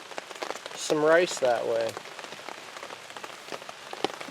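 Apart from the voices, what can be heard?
rain falling on surfaces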